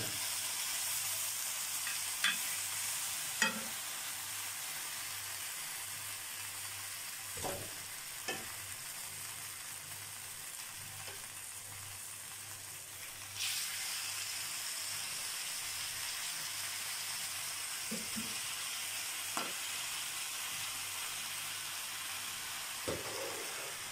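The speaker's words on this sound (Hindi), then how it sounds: "अब ये लेग पीस निकाल के मैं आराम से तवे पे रखती जाऊंगी। तवे के नीचे मैंने चूल्हा ऑन कर दिया" Chicken leg pieces sizzle steadily on a griddle over a low flame, a continuous frying hiss with occasional brief pops and crackles, close and fairly quiet, with no talking.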